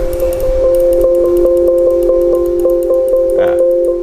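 A steady electronic test tone from an ESI NEVA UNO audio interface with a sustained hum underneath, marked by a quick, regular ticking ping repeating several times per second, close and constant.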